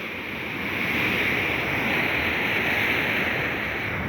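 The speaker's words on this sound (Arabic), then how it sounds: "البحر النهارده عالي شويه" Rough sea on the Alexandria shore, with steady broadband surf roaring continuously as waves crash, loud and unbroken with no voices.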